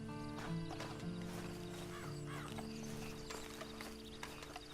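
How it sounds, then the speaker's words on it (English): A horse in the Red Dead Online video game, its hoof clip-clops and a short whinny sounding over a steady in-game music and ambience bed, moderately loud throughout. "And you better get on this horse."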